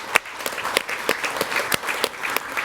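An audience at an indoor regional procurement event claps, steady scattered applause from a modest crowd at moderate volume, with no voices.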